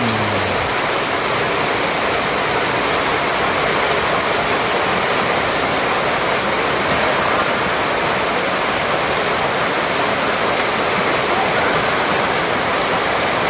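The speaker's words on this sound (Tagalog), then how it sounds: "Ulan." Heavy rain pours steadily and loudly as a dense, unbroken roar of water. It lasts the whole time with no talking over it.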